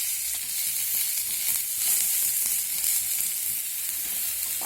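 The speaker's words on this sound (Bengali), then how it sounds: "পাকা টমেটোটাও ফোড়নের সঙ্গে ভালো করে নেড়ে চেড়ে ভেজে নেব।" Ripe tomato, cut into large chunks, sizzles and fries steadily in hot oil with ginger and tempering spices while being stirred, a dense continuous crackle close up with no voices.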